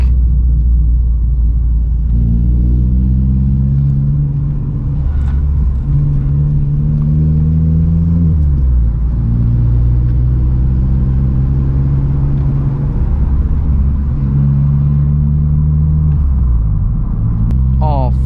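Vauxhall Corsa engine droning loudly and steadily from inside the car while driving, its pitch climbing and dropping through gear changes as the car speeds up and slows down.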